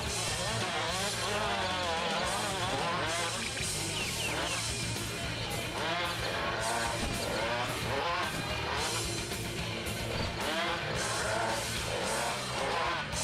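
Racing car engines in a video game whine and drone together at high revs, with occasional tire squeals, loud and continuous throughout.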